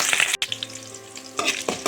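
Four thinly sliced green chilies fry in hot oil with tempering spices for a ridge gourd gravy curry, giving close bursts of sizzling and spitting that drop briefly into a quieter hiss before flaring up again.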